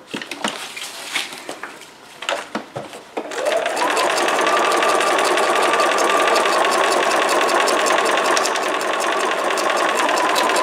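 A sewing machine stitches decorative pieces that had been glued to paper, a loud steady whir running continuously after a few seconds of scattered handling clicks.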